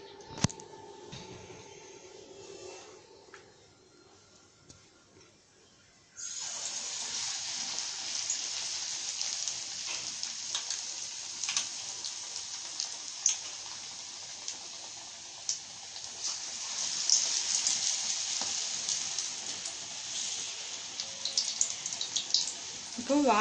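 Banana and karpooravalli leaf bajji fritters dropped into hot oil, setting off a sudden loud, steady sizzling hiss that runs on with crackling pops, after a quieter stretch of faint kitchen noise.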